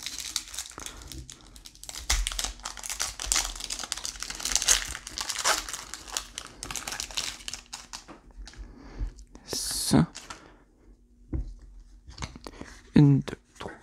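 Foil wrapper of a Pokémon Fusion Strike booster pack crinkling and tearing open up close, a busy run of rustles for about eight seconds, then a few sharper isolated crackles, with a voice speaking between them.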